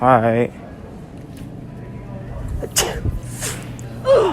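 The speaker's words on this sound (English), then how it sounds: "he sneezed on me" A man sneezes out in public, a short burst standing out amid nearby conversation and street noise, with voices talking before and after it.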